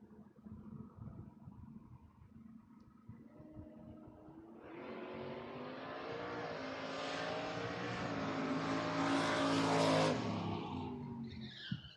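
Drag race cars roar off the line and scream down the strip at a bracket race, one of them a Mustang, the engine note building loud and steady for several seconds before cutting off.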